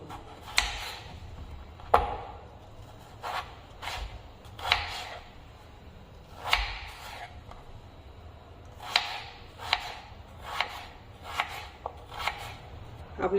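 A large raw peeled potato is chopped into small pieces on a board, giving crisp, irregular knife chops in bursts of one or two strokes with short pauses between them.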